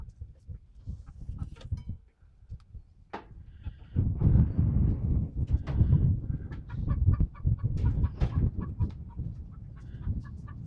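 A hen cackles repeatedly after laying, in loud, uneven bursts, close by, with other fowl clucking in the background.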